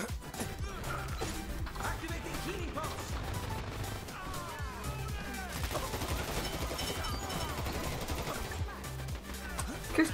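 Sustained rapid gunfire from a Dirty Bomb shooter match, dense repeated bursts running the whole stretch under clattering game effects and occasional voices.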